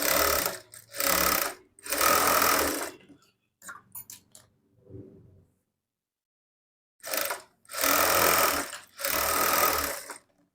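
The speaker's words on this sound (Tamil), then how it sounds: "ஹூக் பட்டி வந்து தைச்சி எடுத்துக்கலாம்." Sewing machine stitching a hook strip onto a lining blouse, running in several loud bursts of rapid mechanical chatter, separated by short pauses and a few light handling clicks.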